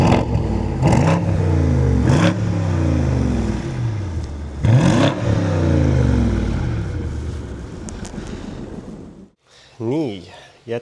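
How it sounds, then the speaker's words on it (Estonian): A BMW V8 engine revs hard several times through the exhaust, deep and loud, with rising and falling pitch sweeps, then drops to a lighter rev. "vaatame, kuidas see V8 nüüd kõlab"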